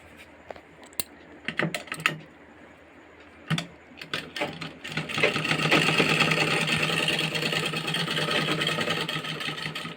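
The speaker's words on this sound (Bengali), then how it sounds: "এই বটম লাইনে আবার ঠিক যেমন ওটা করলাম এটাও সেলাই করে দেবো" A sewing machine stitches the bottom line of a Patiala salwar, starting with scattered clicks and short bursts, then running in a steady, close, continuous whir for several seconds.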